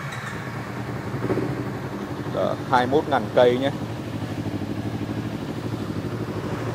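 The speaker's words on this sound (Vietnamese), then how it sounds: "Đây mình sẽ nổ máy cho em nghe tiếng máy của con này ha." Kawasaki Z300 motorcycle engine idling close by with a steady low rumble, a few brief revs rising mid-way, while someone talks over it.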